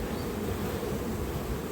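Honeybees drone steadily around an open beehive, a dense, close, continuous buzz of many insects with no pauses and no voices.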